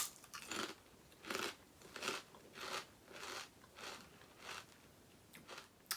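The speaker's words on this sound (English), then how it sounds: "I can't get over how crunchy they are." Crunchy Hawaii-themed snacks from a snack box being chewed up close, with loud crisp crunching bursts repeating roughly every half second to second, alone without talk.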